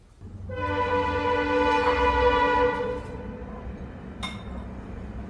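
A loud, sustained express train horn blares for a couple of seconds, then fades into the steady rumble of the express train rolling past nearby.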